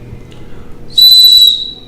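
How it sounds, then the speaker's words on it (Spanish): A single clay whistle sounds one piercing, steady high tone for about half a second, loud and close after a quiet start. "Son silbatos, son pitos o silbatos, todos funcionan."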